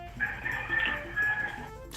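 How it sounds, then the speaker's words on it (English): A rooster crows in a single stretched, wavering call lasting most of two seconds, faint and distant, under steady background hum. "It sounded like a rooster."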